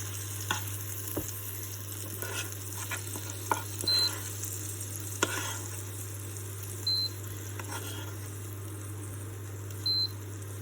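Steaks fry in a pan with a steady, quiet sizzle under a low constant hum, punctuated by occasional utensil scrapes and a few faint electronic beeps.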